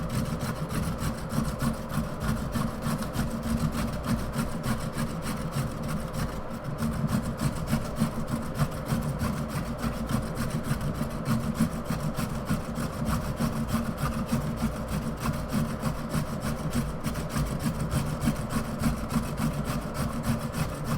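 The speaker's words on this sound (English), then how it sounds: "you need to be focusing on your carrots, on your grater anyway" A carrot is rubbed steadily against a grater to make ribbons for a pasta salad, a continuous rasping scrape running for about twenty seconds with no pauses and no talking.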